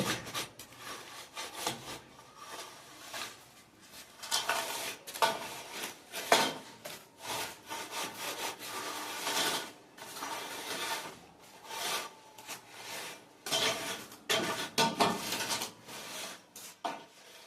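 A steel trowel scrapes and spreads cement mortar across a floor being prepared for tiles, giving irregular gritty rubbing strokes in bursts, close by and fairly quiet, with no voices.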